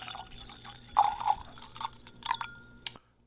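Redemption High Rye single barrel whiskey splashes into a glass with a few bright, close liquid glugs and drips, ending in a soft clink, with no talk.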